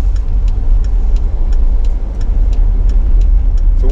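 Car driving toward a store's plant center, a low rumbling road and engine drone with faint regular ticking, close and steady throughout, no talk.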